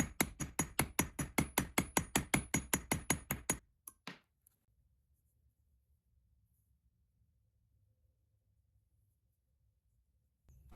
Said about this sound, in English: I hammered it out on the anvil just a bit